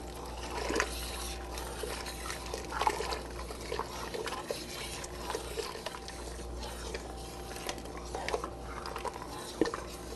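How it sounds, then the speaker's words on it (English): Egg mixture poured slowly into a pot of Greek soup while being stirred steadily, giving soft continuous liquid stirring and light scraping at close range, with faint clinks, fairly quiet throughout. "Now comes our egg mixture. And I'm going to pour it in nice and slow and stir the whole time."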